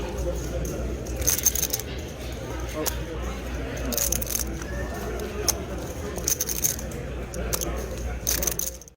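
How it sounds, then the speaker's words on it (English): Clicky clattering of stacked poker chips being riffled together in repeated bursts, close up, under a steady murmur of background chatter and card room noise. "The first clip will actually be a chip shuffling technique I've been doing for years"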